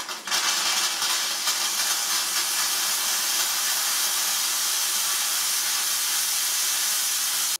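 A Lidl Silvercrest SDM 1500 C2 steam mop runs at speed 2, giving a loud, steady, broadband hiss of steam that holds nearly constant throughout, close up and alone.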